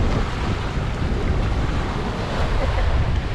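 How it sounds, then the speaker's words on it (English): Steady wind rushes past the microphone on a sailboat under way, blending with broad water and surf noise for the whole stretch, loud and continuous with no voices. "we've got really good wind to sail with"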